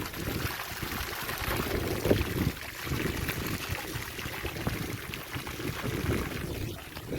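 Water of the Narmada flowing and trickling nearby, a continuous broadband rushing wash with a few faint knocks, steady and moderately loud with no clear talk.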